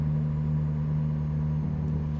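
A truck engine drones at a steady low pitch in a truck driving video game, crossing Arkansas, constant and even with no talking.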